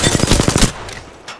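Rapid burst of gunfire hitting the player in the Apex Legends video game: loud, close automatic shots in quick succession for under a second, then a quieter tail with a faint later crack.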